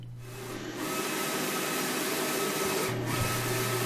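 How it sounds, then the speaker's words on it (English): A printer cutter printing and cutting wall graphics gives a steady, close mechanical drone with a constant motor hum and faint carriage whir that runs without pause. "we sent the file to our printer cutter"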